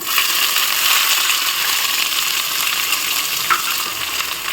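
Whole spices such as cinnamon, then onions, frying in hot oil in a pan for village-style chicken biryani, giving a steady, close hiss and crackle that runs throughout with no talking.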